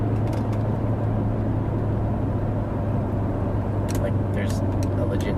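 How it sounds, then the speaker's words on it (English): A lifted Dodge truck closing in fast on the road, heard as a steady loud engine and road drone from inside a moving car with a constant low hum, and no talking. "This guy's coming up fast, and it's a fucking lifted Dodge."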